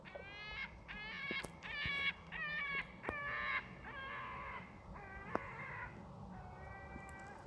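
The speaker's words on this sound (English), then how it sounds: "Oh, wild seagull," A wild seagull calls in a run of repeated harsh, nasal cries, fairly close and clear over quiet background.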